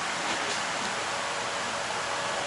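Heavy rain pouring down outdoors in Wiesbaden, a dense, unbroken hiss of falling water filling the whole stretch at steady loudness, with no voices.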